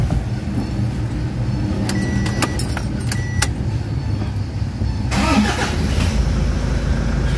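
Toyota HiAce van engine cranking and catching after a timing belt replacement, preceded by faint jangling keys, then settling into a steady low idle rumble that fills the background.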